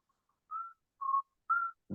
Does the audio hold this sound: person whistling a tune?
yes